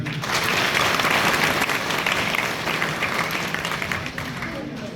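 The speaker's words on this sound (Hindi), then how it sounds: "एक बार सबके लिए जोरदार तालियां" Loud, sustained applause from a large audience at a Jat community honour ceremony held at a village institute, dense clapping swelling quickly and tapering slightly over a few seconds.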